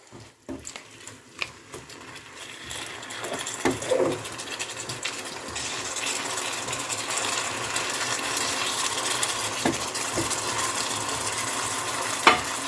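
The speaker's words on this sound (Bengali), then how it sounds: "এবার এর মধ্যে দিয়ে দিচ্ছি জল জলটা দিয়ে একবার ভালো করে নেড়ে দিয়ে" Potato and pumpkin curry in a pan with added water, stirred with a spoon scraping and clinking against the pan over a steady bubbling sizzle that builds and continues, close and fairly loud.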